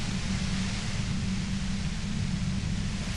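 Steady broadband hiss of static from the video game Disco Elysium, a constant wash with a heavy low rumble underneath, holding even throughout with no talk.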